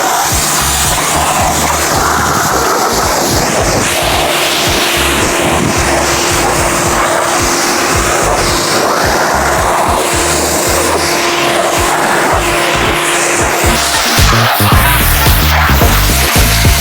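A black Chevrolet Corvette C8 drives past. The engine roar and road noise are loud, steady and broadband, continuing for about seventeen seconds with no pause and no speech.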